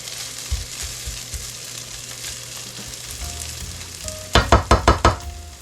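Potatoes sizzle steadily in a hot pan for a breakfast bowl, with a quiet stretch of frying before a quick burst of scraping and tossing clatter as the pieces are flipped near the end.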